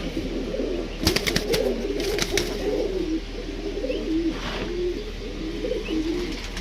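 A pair of Rajshahi Giribaz pigeons cooing in a loft, steady low repeated coos close by over a constant hum, with a few brief clicks and rattles.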